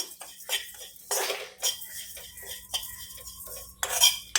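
Whole spices, including fennel, white mustard and coriander seeds with panch phoron, are dry-roasted in a pan for mango pickle, a metal spoon scraping and clinking against it in irregular close strokes.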